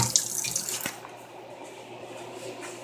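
A pot being washed under a running kitchen tap, with a steady stream of water and a brief clatter at the start, then softer continuous flow near the microphone.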